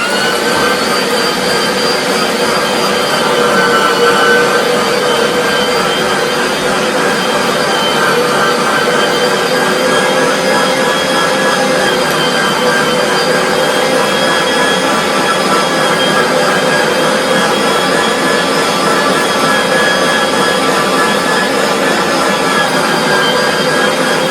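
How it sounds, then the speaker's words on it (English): A Vevor electric meat grinder, a 4.2-pound model, runs steadily while grinding strips of beef rump, giving a continuous loud motor whine with a broadband mechanical roar that holds even and never stalls, heard alone without talk. "I did slice this rump up into strips to make it easier to go through the grinder."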